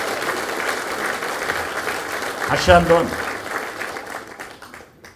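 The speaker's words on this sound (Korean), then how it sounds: "이런 때 박수 한번 쳐야죠." Crowd applause at a political party's national joint meeting of provincial and local council members, steady clapping briefly overlapped by someone speaking midway before it thins out and fades near the end.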